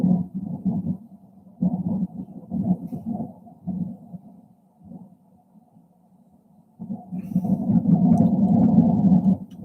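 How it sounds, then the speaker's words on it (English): Recorded wind on the planet Mars comes through as a low, rumbling whoosh that swells and fades in gusts. It drops nearly quiet midway, then surges louder toward the end. "These are sounds on the planet Mars."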